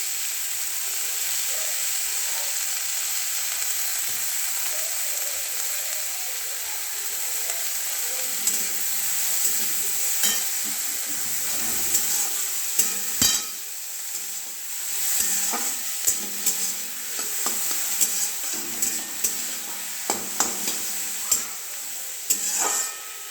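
Cabbage being stirred into a pot of cooking chicken soup, with a steady hiss of sizzling and scattered scraping and clinking of a spoon against the pot that grow busier toward the end, close and without speech.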